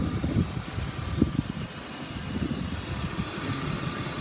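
A 1999 BMW E36 328i convertible engine idles nearby, a steady low mechanical hum with a faint fan-like hiss, alone without talk.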